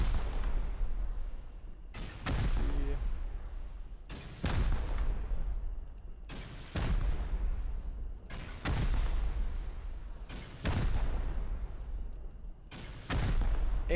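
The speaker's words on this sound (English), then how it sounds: "I'll rocket it a couple times here." Rocket explosions strike a base foundation in a building-and-combat video game, with about six heavy booms spaced roughly two seconds apart, each followed by a rumbling decay.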